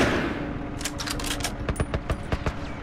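Gunfire in The Last of Us, aimed at the driver of a vehicle, comes as a loud, close burst of rapid shots, first a dense cluster and then several separate heavy reports.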